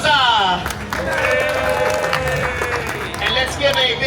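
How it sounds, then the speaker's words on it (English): An audience at a Busch Gardens Williamsburg storytime show of Little Red Riding Hood claps and cheers loudly, with a voice calling out over the applause. "Let's give a round of applause to our"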